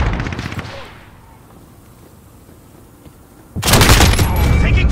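Dense, loud bursts of automatic gunfire in the Modern Warfare video game, a rattling volley at the start, a quieter gap, then a heavy, close barrage that keeps going.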